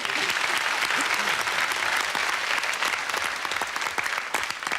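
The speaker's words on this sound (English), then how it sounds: "I'll give him a round of applause." Studio audience on the 1987 game show Blankety Blank, applauding with dense, sustained clapping that fades slightly toward the end.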